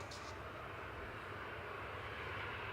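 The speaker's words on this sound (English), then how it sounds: "tapping the runway with its landing gear" A TAP airliner touching down on the runway at Manchester Airport, heard as a steady, distant broadband rumble of engines and airflow with no distinct impacts.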